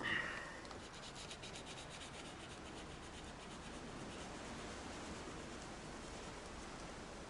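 Varnish is sanded on a car painted candy red, a soft, continuous rubbing scrape that begins with a slightly louder stroke and then stays quiet and even throughout.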